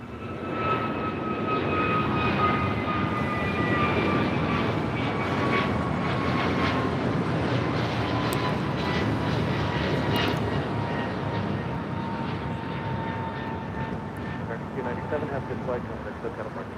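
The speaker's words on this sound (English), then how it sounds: "That was American Airlines 297 taking off to Honolulu on an A321neo" An American Airlines Airbus A321neo airliner takes off at LAX, a steady loud jet engine roar with whining tones that slowly fades as it departs, with voices talking over it.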